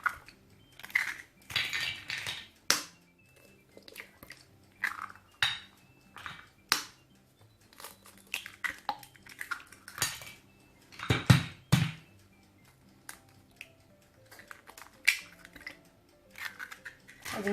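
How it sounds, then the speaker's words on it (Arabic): Eggs are cracked into a bowl for a chocolate cake, with repeated sharp taps, knocks and clinks of shells and dishes in irregular bursts, close and moderately quiet. "في اناء غادي نهرسو، غادي نديرو البيض بهذا الشكل"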